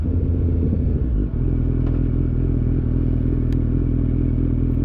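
Motorcycle braking down a hill with a steady, loud low engine drone close by, a brief dip and clunk early on, then constant rumble and wind buffeting, with no talking.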